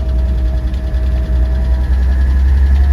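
A 1948 Chevy Fleetline Woodie drives along with its engine running steadily and loud throughout, a constant low drone without a clear gear-change break.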